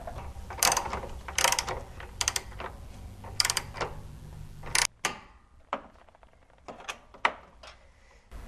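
A 13mm wrench and a 6mm hex driver tighten the nut of an LED light bar on a 2014-2018 Silverado: quick bursts of close ratcheting clicks, then sparser clicks and small metal taps.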